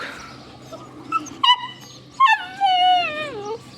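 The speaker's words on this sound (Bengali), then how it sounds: "দুইটা কুকুরের বাচ্চা দেখতেছেন এগুলো আসলে" Two small puppies whimper and whine in high, wavering cries, a couple of short yelps followed by a longer sliding whine, close and clear over a quiet background hum.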